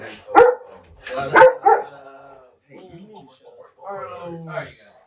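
A dog gives two or three sharp, close barks, then softer yips and whimpers, while people talk nearby.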